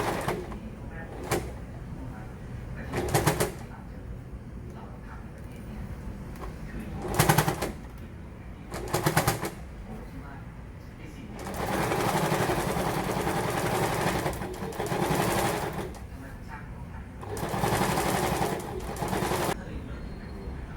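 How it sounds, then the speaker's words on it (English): A sewing machine stitching extra reinforcing rows over tote bag straps, running in several short bursts of rapid mechanical chatter separated by pauses, with a longer steady run midway, fairly faint and close. "You can reinforce the straps by sewing extra stitches over them."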